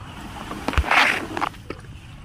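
A wooden paddle dips and pulls through water beside a small fishing boat heading out, giving a few close splashes and knocks over a low outdoor hiss.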